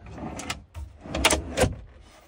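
A large storage drawer in a four-wheel-drive Toyota Hiace campervan slides open, a few rumbling, scraping pushes and clunks heard up close with no talking.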